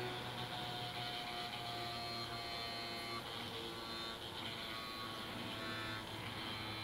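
An old mechanical gyroscope spinning up and shaking as it is moved, a faint steady whirring hum with a high tonal whine that holds throughout with slight wavering.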